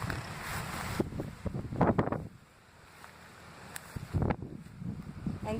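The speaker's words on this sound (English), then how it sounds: "This wind is really kicking out here." Wind gusts buffet the microphone outdoors on a nature walk, with loud rumbling blasts that rise and fall and a brief calmer lull in between.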